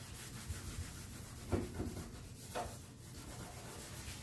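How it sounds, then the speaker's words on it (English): Finish being rubbed and buffed into a wooden console table by hand, a quiet, close, soft scrubbing with a few firmer strokes standing out, no talking. "like just break it up, buff it out. Rub everything in together"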